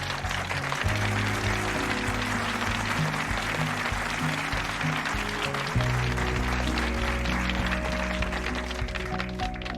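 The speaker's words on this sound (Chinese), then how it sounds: "鼓掌！" A group applauding in a hospital meeting room, steady dense clapping that fills the whole stretch at an even level, with faint music underneath.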